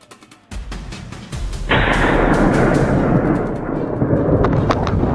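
Several rapid gunshots fired at wild boar in a pine forest hunt, sharp cracks in quick succession followed by a loud, rolling echo that hangs on and fades slowly.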